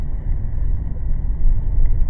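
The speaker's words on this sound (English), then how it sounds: "garbage truck's coming back." A garbage truck rolls past on a residential street, its low engine rumble steady and fairly loud throughout, with a slight swell toward the end as it draws nearer.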